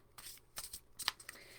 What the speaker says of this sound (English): I shuffle until I feel stop in my mind, and that's the card I'll draw.